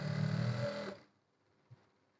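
A sewing machine stitches a petticoat in a rapid whirring run for about a second, then stops, leaving near-silence and one soft click.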